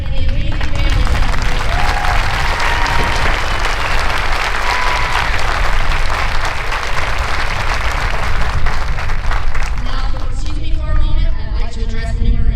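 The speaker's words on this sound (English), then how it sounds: "Join me in a round of applause as we recognize our drill instructors and the amazing families" A large crowd at a Marine Corps recruit company graduation ceremony claps loudly and continuously, a thick roar of applause that swells toward the end, where cheering voices break through.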